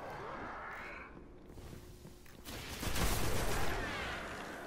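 Assault rifle fire in the shooter Destiny: The Taken King, a dense, continuous stream of rapid shots that swells louder halfway through, with no talk over it.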